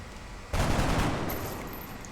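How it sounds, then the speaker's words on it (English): A soldier in the XCOM: Enemy Within strategy game fires and misses, heard as one sudden loud burst of gunfire that decays into a long rumbling tail with a faint high tone near the end. "Our first shot goes wide."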